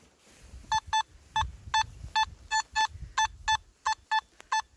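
A Simplex SP24 metal detector sounds a string of about a dozen short, evenly spaced electronic beeps, fairly faint over a low rustle of the coil sweeping the ground.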